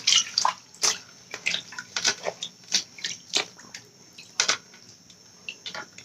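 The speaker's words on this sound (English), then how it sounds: "You're going to rest it in the water." Water splashes and drips in a string of small, close sloshes as synthetic hair is eased into a basin of water.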